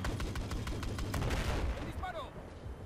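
Rapid bursts of video game gunfire from Battlefield 4's South China Sea campaign crackle close and loud with dense repeated shots, under talk.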